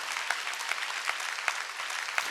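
A church congregation claps in unison during a Sunday worship service, a sharp steady beat of about five claps roughly every 0.4 seconds over a soft crowd background.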